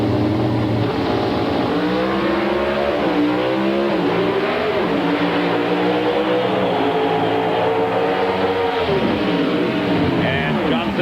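Drag racing cars at a 1996 NHRA invitational roar continuously as they launch and accelerate down the strip, the loud engine pitch sweeping up and down through gear changes for about eleven seconds.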